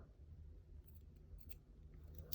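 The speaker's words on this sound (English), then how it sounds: "Cut the end. Cut this tail." Scissors snip through a crocheted yarn tail on a palm leaf earring, a few faint quick cuts at the end of a quiet stretch.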